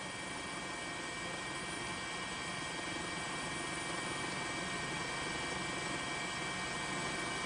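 A news helicopter hovers over Sendai Airport in Miyagi Prefecture during the 2011 tsunami, its rotor and turbine giving a steady, loud, close drone that stays constant throughout.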